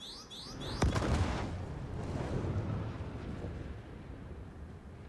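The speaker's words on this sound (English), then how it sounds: "Yeah, guns still work." Spaceship guns firing in a space video game: a sharp blast followed by a dense, rumbling barrage of shots that slowly fades over several seconds, fairly loud with no talking.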